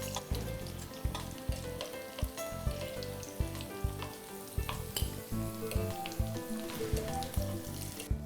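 Leftover pasta fries in a pan until browned, giving a steady close sizzle broken by regular crackling pops and scraping thuds. No one speaks.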